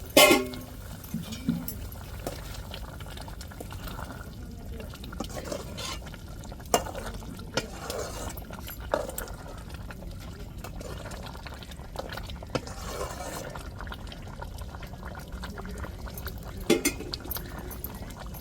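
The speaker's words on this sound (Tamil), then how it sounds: "குழம்பு நல்லா கொதிக்குதுங்க" Soybean and bean curry bubbles and gurgles steadily in a pot nearby, a soft continuous simmer with occasional louder pops and clinks.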